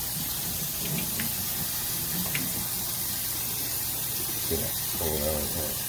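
Water runs and splashes while a Bissell Big Green carpet cleaner is rinsed out, a steady close hiss and gurgle throughout, with a brief burst of speech near the end.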